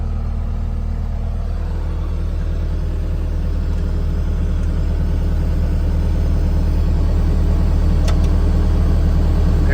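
A Bobcat S250 skid steer runs its hydraulics for the quick attach, its engine holding a steady, loud, close drone with a low rumble throughout and no talking.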